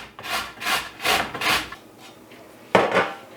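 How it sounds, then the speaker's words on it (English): A carrot rubbed against a hand grater in rhythmic rasping strokes, five or six close scraping passes in a row, a short pause, then one more stroke. "And I am going to grate my carrot."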